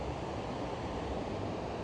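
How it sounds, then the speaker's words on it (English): Corra Linn waterfall, water tumbling 30 meters down, heard as a dense, steady roar of surging water with no breaks, loud and enveloping. "A huge force of tumbling water dropping 30 meters down, surging, roaring force"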